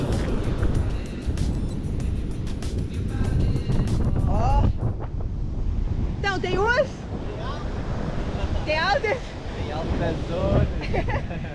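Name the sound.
wind noise on microphone at Nazaré beach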